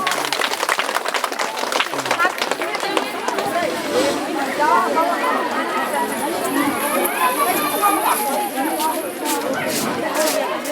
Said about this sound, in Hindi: एकदम हमारे मुड़ियान के तानी जोरदार ताली बजा दियो।